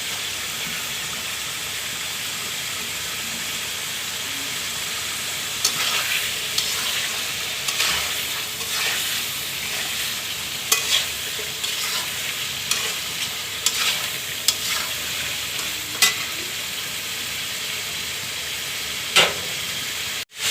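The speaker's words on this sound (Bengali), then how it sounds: "এখন এই মাছের কাটা কুটা দিয়ে আবার কষাবো" Hilsa fish heads and tails are stir-fried with potatoes in a pan, loud continuous frying sizzle with repeated scraping stirs of a spatula throughout.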